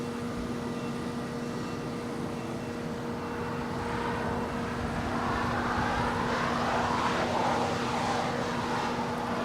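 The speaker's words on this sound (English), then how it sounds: "That is Alaska Airlines Flight 1382 coming in from Washington, Dulles." An Alaska Airlines Boeing 737-900ER arriving at Los Angeles International Airport rumbles in a steady jet drone that grows louder toward the end, with a constant tonal hum underneath and no talk.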